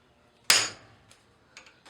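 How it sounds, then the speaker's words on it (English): One sharp hammer strike on a metal rosette rivet at a blacksmith's forge rings out clearly, followed by a couple of faint, light metallic taps. "after you hammer down so far, you'll be getting what looks like that, like a dot in the center"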